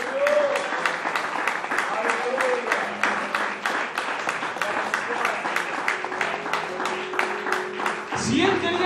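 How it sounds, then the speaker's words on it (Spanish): A church congregation claps during a Spanish-language sermon, giving a rhythmic, unison beat of many hands at a steady pulse, with a faint musical tone sustained beneath and a brief voice near the end. "Aplaudir al Señor."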